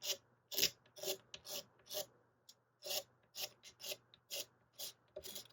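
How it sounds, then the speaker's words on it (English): Old residue is scraped off a guitar fretboard on a Flame Telecaster, a series of short, close rasping strokes in an irregular rhythm with quiet pauses between them. "So I just go down through these and scrape them all off."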